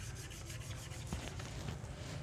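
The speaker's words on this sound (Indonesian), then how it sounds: "jadi ini harus di gosok agar untuk kampas yang baru bisa awet" Steady, muffled rubbing as the clutch disc lining of a Daihatsu Gran Max is sanded by hand, a continuous low scraping texture, quiet and unbroken throughout.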